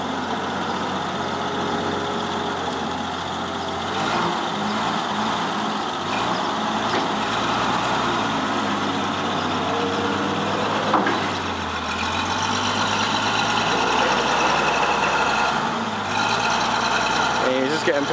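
A big forklift of about 10,000 pounds drives up onto a Cam Superline 8CAM split tilt trailer, its heavy diesel engine rumbling steadily and close by, rising and falling slightly in revs throughout.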